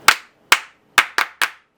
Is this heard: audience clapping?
yes